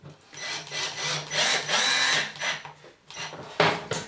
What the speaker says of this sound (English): I'm just going to put a screw through the tongue bit there